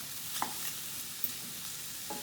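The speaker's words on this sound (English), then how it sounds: "You can hear things sizzling a little bit." Mushrooms and garlic for vegan ma po tofu sizzle quietly in a hot pan, a soft continuous crackle with a few light stirring clicks and scrapes.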